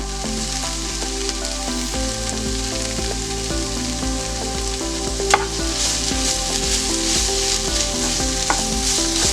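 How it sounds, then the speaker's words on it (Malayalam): Honey glazed chicken stirred in a hot pan, a steady loud sizzle and frying hiss throughout with the soft scrape of a spoon and a brief clink near the middle, no voices. "എന്നിട്ട് നമുക്കിത് നല്ലവണ്ണം മിക്സാക്കി കൊടുക്കാം."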